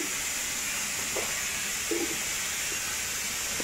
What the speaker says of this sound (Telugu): పప్పు కూడా ఉడుకుతుందండి, బఠానీ, రాజ్మా.